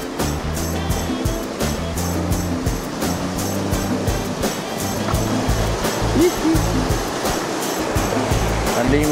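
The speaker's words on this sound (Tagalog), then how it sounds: "Unlimited pala yung waterfalls dito" A waterfall on the Mt. Pinatubo Inararo trail pours with a steady, loud rushing of water, its churning wash continuing throughout, and some faint background sound mixed in.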